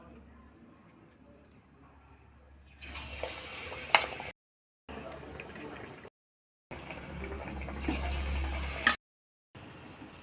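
Pakoras made from botboti beans sizzle in hot oil in a pan, a steady broadband crackle that swells in two loud bursts between quieter gaps, with no voices over it.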